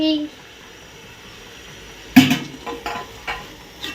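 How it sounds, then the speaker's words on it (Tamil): Tomatoes hit a hot pan for mutton biryani, a soft steady sizzle followed by a sudden clatter and several stirring scrapes and knocks of a utensil against the pan. "நாலு தக்காளி பச்சை வாசனை போற வரைக்கும் வதக்கிட்டேன்"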